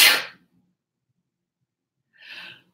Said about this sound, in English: Oh, I'm gonna have to sneeze.